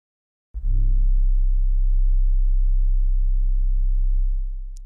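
A rendered synthesized trap soul sub bass note, a single deep, smooth sustained tone that starts abruptly, holds loud and steady for about four seconds, then fades out alone.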